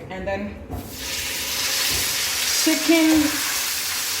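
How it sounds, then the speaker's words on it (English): Steamed chicken breast, seasoned with ginger and garlic, frying in a pan for home-made fried rice, a steady close sizzle rising after a brief spoken phrase and continuing alone. "We'll start frying the chicken breast."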